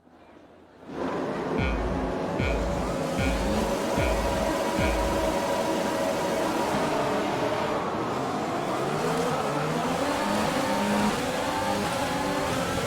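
Race cars lining up at the start in the F1 2020 video game: a series of evenly spaced beeps over idling engines, then a loud, sustained roar as the field accelerates away together.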